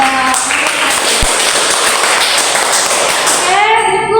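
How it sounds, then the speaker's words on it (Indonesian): A classroom audience claps, a dense steady burst of applause for several seconds that fades toward the end as a voice begins. "Mari kita berikan aplaus kepada."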